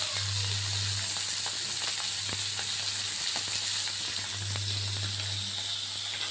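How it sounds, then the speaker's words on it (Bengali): Hilsa fish sizzling in hot oil in a kadai over a gas flame, a steady broadband hiss with scattered small crackles and pops, close and continuous without talk. "ভাজা হচ্ছে মাছগুলো।"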